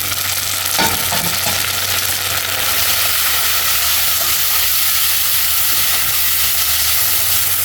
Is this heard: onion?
yes